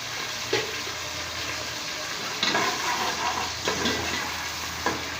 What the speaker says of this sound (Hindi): प्याज को हल्का सा फ्राई करना है